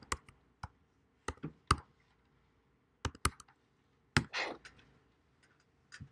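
Scattered bursts of computer keyboard typing, sharp close clicks in uneven clusters separated by quiet pauses, with one short run of rapid keystrokes midway.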